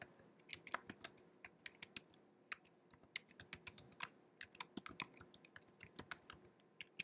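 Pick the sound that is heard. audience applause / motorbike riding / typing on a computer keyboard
typing on a computer keyboard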